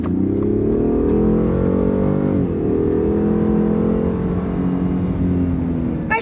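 Steady, smooth engine and tyre hum from a Ford with a V8 cruising on a smooth road in fog, heard from inside the cabin, with a slight shift in engine note partway through and no talking.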